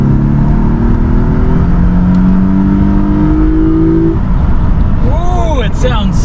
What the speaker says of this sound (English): First time here in the intake. Here we go. There's first. I'm just gonna start going a little smooth.